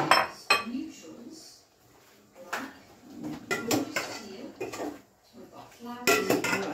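Metal pots, cooking utensils and dishes clatter and clink as they are put away in a home kitchen after making chicken sinigang, with bursts of knocking scattered through the clip and a loud clank near the end.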